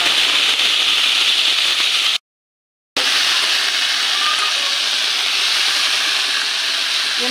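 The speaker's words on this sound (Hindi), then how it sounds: "पहले हम आलू को भून लेंगे थोड़ा सा।" Potatoes sauté in a pan with garam masala and coriander powder, giving a loud, continuous sizzling hiss heard up close. The sound cuts out for a moment, then carries on steadily, with no talking.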